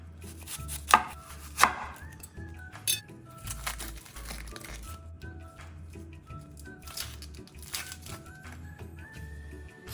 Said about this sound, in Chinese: 接着像视频一样将洋葱切细